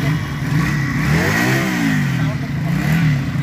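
A large professional chopper motorcycle engine revs up and settles in a deep, throaty rumble, loud and close, with a voice talking over it.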